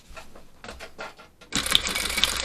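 Sewing machine stitching along the tape edge of a coat made of double-sided raincoat fabric, a faint rapid mechanical patter that turns louder and denser in the second half, close and continuous.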